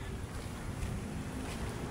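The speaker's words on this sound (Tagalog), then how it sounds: "Ayan naman yung ating alon Gumagalaw na naman yung ating dagat" Sea waves washing at Manila Bay ahead of a coming typhoon, a steady broadband roar of surf and water with wind buffeting the microphone, continuous and fairly loud with no talk.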